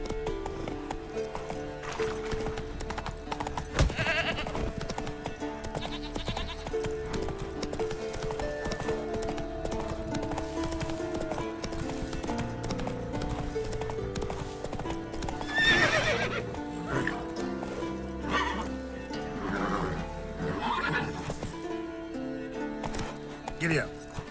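A horse in The Witcher 3 gallops at speed, its rapid hoof clip-clop rhythm pounding steadily up close, broken by loud neighs and whinnies, with a voice talking over it at times.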